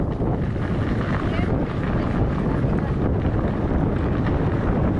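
Strong wind buffets the microphone while out cycling, a steady loud roar with no break throughout.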